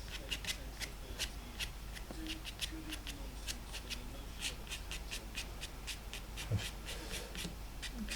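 Wet watercolour paint is scraped with a card and fingernails to pick out grasses in a lake landscape, producing quiet, rhythmic short scratches repeated steadily at close range with no talk.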